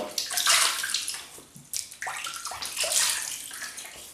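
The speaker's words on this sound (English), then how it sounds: "So I'll just wet my face using the old Semogue again, 830, always does the job." Water splashes and drips as a face is wetted with a Semogue 830 shaving brush, in several short bursts of close splashing with brief pauses between them.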